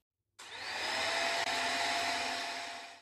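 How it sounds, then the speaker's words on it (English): A vacuum hose sucking debris up from the ground starts abruptly and holds a loud, steady airy roar with one brief dip before it continues. "Commence vacuum hose to remove every ounce of hazy maze from the ground."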